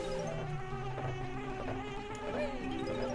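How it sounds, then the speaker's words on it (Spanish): Insects buzzing in the video game Banjo-Kazooie, a steady whining drone with wavering pitch that holds on and on, running as a continuous layer under the other game sounds. "Hay más moscos."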